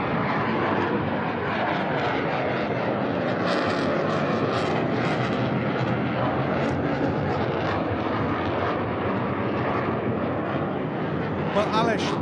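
Military jet aircraft engines roar loudly and steadily during an aerial refueling demonstration at an air show, a continuous broadband rumble with a commentator's voice running over it throughout.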